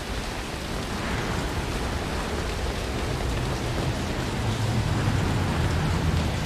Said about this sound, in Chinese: 然后结果原来是下雨